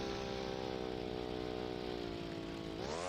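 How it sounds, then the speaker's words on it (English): A loud motorbike engine drones steadily and close up, with a rich buzzing tone that rises in pitch near the end as the rider speeds up. "I'm yelling over the sound of the motorbike. It's really loud."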